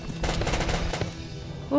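Enemy return fire in the Valkyria Chronicles video game: a dense burst of rapid machine-gun shots rattles for about a second, then a quieter stretch, ending in a sudden louder swell.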